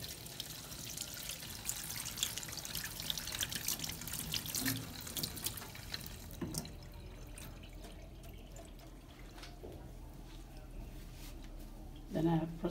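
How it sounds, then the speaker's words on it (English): A kitchen tap runs as hands are washed after rubbing seasoning onto fish for a Jamaican Sunday dinner; the water flows for several seconds, then trails off to a faint, quieter trickle. "And I'll wash my hands."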